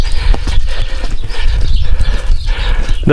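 Horse hooves clip-clopping in a rainy Ukrainian village of brick houses, a loud, close, steady run of hoofbeats with rough outdoor background and no talking.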